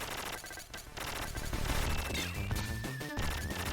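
Boss gunfire during a fight against a boss in the Contra Hard Corps video game, dense rapid shots and crashing impacts layered over game music, loud and continuous throughout.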